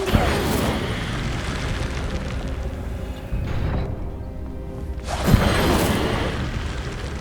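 The Incendio fire spell cast in a Harry Potter video game, with loud whooshing bursts and a sharp crackling boom over continuous game noise.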